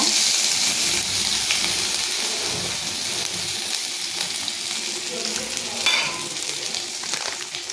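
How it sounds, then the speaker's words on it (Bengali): Cumin seeds and ginger tempering in hot oil for dhokar dalna, a dense continuous sizzle and crackle close up, with faint stirring and a brief clink near the end. "প্রথমে দিয়ে দিচ্ছি একটু জিরে ফোড়ন, আদা,"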